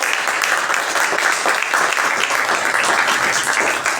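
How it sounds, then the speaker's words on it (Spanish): Continuous, dense applause from a crowd, loud and even throughout the few seconds. "el aplauso es para ti."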